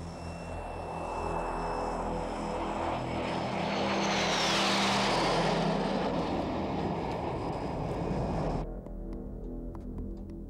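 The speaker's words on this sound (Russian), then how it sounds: "Сообщили, самолет уже сел." A propeller airplane landing, its engine roar swelling to a loud peak as it passes close, then fading and cutting abruptly into a quieter background.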